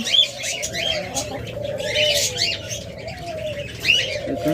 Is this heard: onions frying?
no